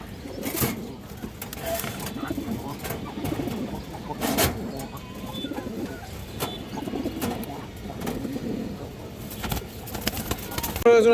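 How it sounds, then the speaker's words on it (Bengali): Domestic pigeons, including red and silver birds, coo repeatedly in a loft with soft rhythmic throaty calls, plus occasional wing flaps and clatter nearby and someone speaking over parts of it. "লাল কবুতর এটা আমার বাসার বিডা কবুতর"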